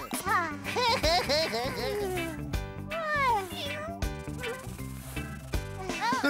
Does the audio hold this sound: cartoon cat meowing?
yes